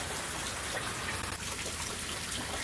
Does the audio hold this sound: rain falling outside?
yes